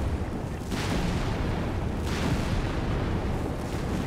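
StuG assault guns bombarding in the Company of Heroes 3 game, heavy low booms rolling in two or three distinct blasts over a continuous rumbling battle din.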